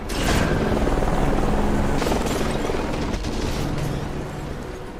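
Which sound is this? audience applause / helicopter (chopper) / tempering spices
helicopter (chopper)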